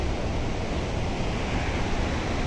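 Water rushes steadily through the gates of Tandava Reservoir near Sarugudu Waterfalls, a loud, dense, unbroken roar with no voices.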